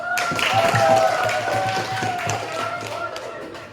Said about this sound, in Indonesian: Kalau begitu, tepuk tangan untuk kalian semua.